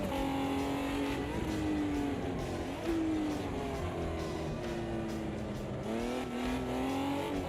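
Race cars lap a cold track at a Classic Sports Car Club meeting at Alton Park, engines whining and dropping pitch through gear changes, with several cars loud and layered together.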